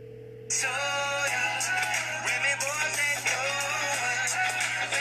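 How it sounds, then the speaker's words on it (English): A custom ringtone sounds on a Wear OS smartwatch for an incoming phone call: after a short tone, a bright, busy melodic pattern starts and plays continuously over a low steady hum, fairly close. "let me call my phone so y'all can see that it is working"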